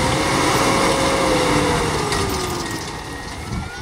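Truck engine idling and moving while being parked in a field at a sugarcane harvesting site, a loud continuous rumble with a faint rising whine that eases off slightly toward the end.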